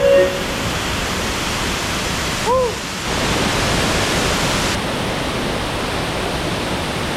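A waterfall roars on the Glen Leigh trail at Ricketts Glen State Park, a loud, steady broadband rush of falling water close by, with a brief faint vocal sound partway through.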